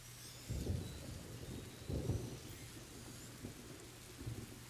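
Thunder from lightning in A Plague Tale: Innocence booms in two heavy low rumbles over steady rain, followed by softer distant rolls, with no voices.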